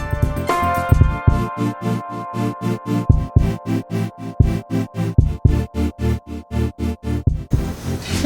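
Household sewing machine stitching a long pants seam on toddler pants made from adult pants, a rapid rhythmic mechanical thumping that runs steadily for several seconds, close and alone.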